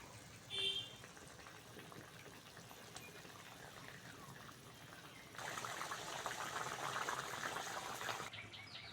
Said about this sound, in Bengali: ঝোল অনেকক্ষণ ফুটিয়ে নিয়েছি